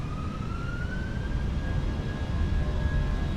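Jet engines of a Jetstar airliner spool up to full takeoff thrust at Christchurch, a steady loud broadband roar from inside the cabin with a rising tonal whine climbing over it.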